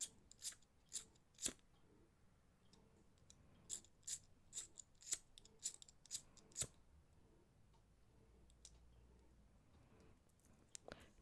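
Scissors snip the cord end off a knotted gemstone chip bead bracelet, giving a run of sharp, close metallic clicks in quick succession, then a few scattered quieter snips against a hushed background.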